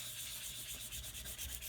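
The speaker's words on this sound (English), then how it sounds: "Bring in my homemade tool here. Give it a good burnishing." Homemade burnishing tool rubbed over vellum card stock in a papercraft setting, giving a steady, close, soft scraping rub that continues without pause for under two seconds.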